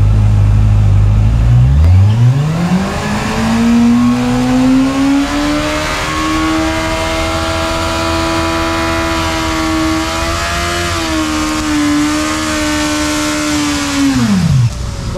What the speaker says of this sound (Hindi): बस बर्नआउट की ऑन Z800